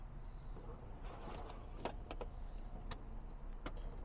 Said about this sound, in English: And then you can just pop it back up and normal, and it'll pop itself back up.